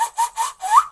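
A beatboxer performs the Ball-Zee laser technique, a vocal imitation of a laser: a quick series of four pulsing, whistle-like zaps, the last sweeping upward, close and fairly loud within one second.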